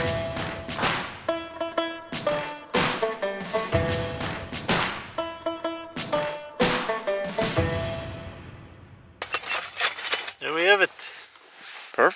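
A big metal hobo stove being assembled outdoors, a series of ringing metallic clanks and clinks at an uneven pace, loud and close, ending in a scrape and a jangle.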